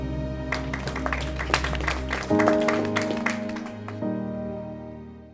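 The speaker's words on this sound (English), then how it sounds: "So give yourselves a round of applause." Audience of young people applauding at a motivational talk, building to a fuller burst midway, then continuing with musical tones underneath.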